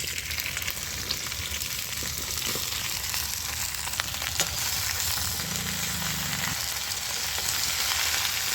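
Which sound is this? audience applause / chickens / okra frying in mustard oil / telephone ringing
okra frying in mustard oil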